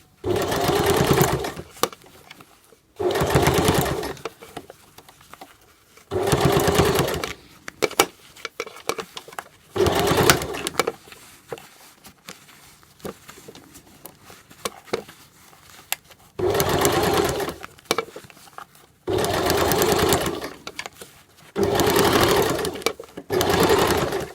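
Sewing machine stitching a two-piece sleeve into a garment, loud close whirring runs of several seconds each, separated by quieter pauses with handling of fabric.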